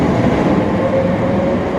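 A British Rail Class 318 electric train rolls past loudly and close at hand, with a continuous rumble and a faint electric whine, near an underground rail route in Glasgow.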